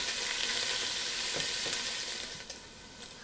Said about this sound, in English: Now I'm going to add my pancetta. I'm just going to cook this until it gets slightly browned.